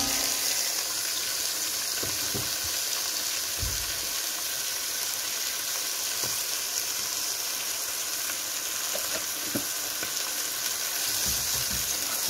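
Onions and meat frying with salt in a pan give a loud, steady sizzle throughout, with occasional low knocks from stirring and no talk.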